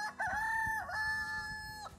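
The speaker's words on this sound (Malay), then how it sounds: "Saya teka bunyi ayam lah," A rooster crows once, a loud, close, drawn-out cock-a-doodle-doo with a rising start and a falling finish, heard alone with faint background noise.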